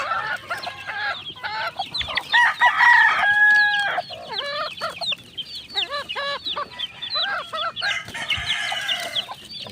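A flock of young chicks at feeding time keeps up busy, overlapping high peeps and clucks, loud and close throughout with no talking.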